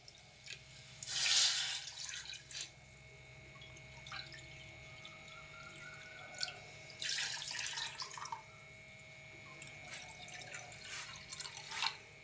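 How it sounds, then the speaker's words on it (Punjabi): Water poured into a pan of jaggery for halwa, two short bursts of splashing pouring with quieter trickles and drips between them, with no voices. "ਲਓ ਜੀ ਢਾਈ ਕੌਲੀ ਆਪਾਂ ਵਿੱਚ ਐਡ ਕਰ ਲੈਨੇ ਆ ਪਾਣੀ ਦੀਆਂ"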